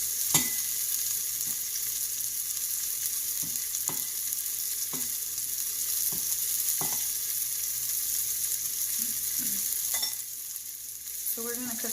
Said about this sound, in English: So we're going to cook these for about 5 minutes until they're nice and seared.